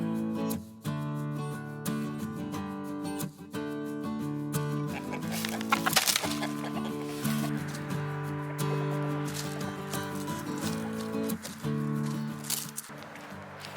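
Backyard homestead chickens clucking and calling in a steady flock chatter, close and continuous, with rustling and a brief louder burst midway.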